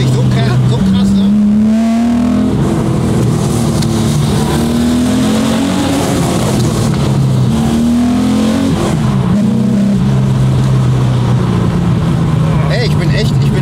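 An air-cooled street sports car engine revs hard and downshifts repeatedly, its loud, close drone rising and falling in pitch through several gear changes over many seconds.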